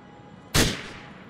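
A single loud gunshot from GTA 4 in zombie mode cracks out abruptly, then trails off in a short reverberant decay over quiet background ambience.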